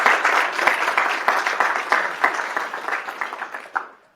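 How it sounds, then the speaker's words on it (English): Audience applause fills the room with dense, steady clapping at close range, tapering off toward the end, with no talking over it. "can we give Charbel another round of applause for this?"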